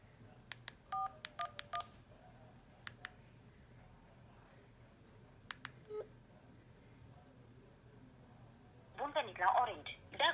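An Alcatel OT-1066 mobile phone dials a call on a Romanian network: a series of short, bright keypad tones sound in quick clusters, followed a few seconds later by a louder burst of warbling ringback or connection tones.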